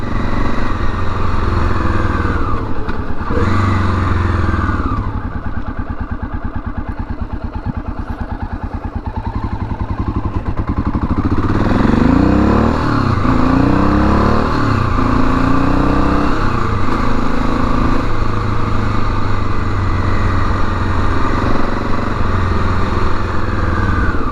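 A 1987 Honda XL600R motorcycle ridden on the road, its single-cylinder engine droning steadily and loud throughout, with rising and falling revs as it accelerates and shifts gears, plus wind rush and a brief easing of throttle midway.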